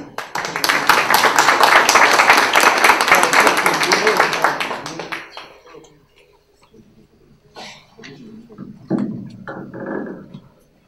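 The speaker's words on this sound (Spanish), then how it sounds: "lo recibimos con un fuerte aplauso, por favor" An audience at a mining lecture in Arequipa welcomes the speaker with loud, close clapping that lasts about five seconds and then stops, followed by quiet, a cough and the start of speech.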